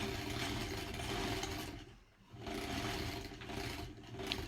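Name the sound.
sewing machine stitching a quilt slowly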